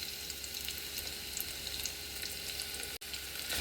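Garlic fries in a couple of spoons of hot oil in a pan, a steady, dense, close sizzle that hisses without a break.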